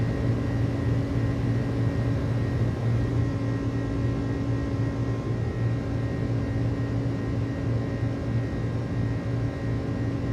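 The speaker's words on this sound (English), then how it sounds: "I just love the sound of this airplane." iniBuilds Airbus A300 cargo jet in Microsoft Flight Simulator cruising, its engines giving a steady, loud, continuous cockpit drone with a low hum and no breaks.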